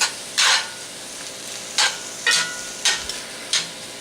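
Cabbage cooking in a cast iron pan, stirred with metal tongs: a steady background sizzle broken by five or six bright, hissing bursts as the tongs toss the pieces, close and with no voices.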